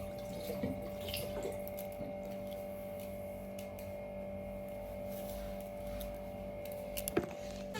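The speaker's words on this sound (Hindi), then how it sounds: "पहले मैं हैंड वॉश कर लेती हूँ।" Hands being washed under a running household tap, a steady rush of water continuing throughout over a low hum, with a brief knock near the end.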